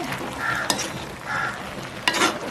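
Steady bubbling and sizzling of eggplant curry boiling in a pot, with a few sharp clinks of a spoon or lid against metal.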